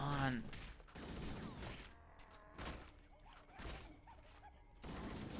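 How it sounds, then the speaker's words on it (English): Gunfire raining down from above in Halo: Combat Evolved Anniversary during couch co-op, a run of broad thumping shots and bursts spaced across the moment, mixed with game sounds and brief talk. "Providing fire from above."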